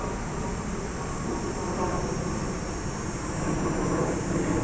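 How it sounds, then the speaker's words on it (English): An airplane passing overhead gives a continuous broadband roar that holds steady throughout, heard from a distance outdoors with no talking. "Now the airplane, listen."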